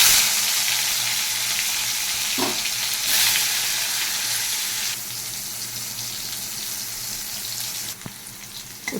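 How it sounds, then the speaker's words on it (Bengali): Bitter gourd pieces fry in hot oil, giving a steady, close sizzle and crackle with a few brief clinks and stirring scrapes, the noise easing slightly toward the end with no one speaking. "এখন উচ্ছে কটাকে ভেজে নিচ্ছি"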